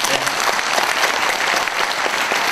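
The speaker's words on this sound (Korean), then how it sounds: "큰 박수 한번 해주십시오" A crowd at a Korean book launch gathering breaks into warm, dense applause, steady clapping throughout that sounds close and full in a hall.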